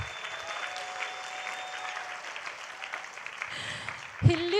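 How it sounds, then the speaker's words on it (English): Audience applause fills the room in honour of Mr. Muraguri at a BNI Uganda business networking gathering, a steady, even wash of many hands clapping throughout, with a brief louder thump near the end. "I would like us to acknowledge with a big hand clap"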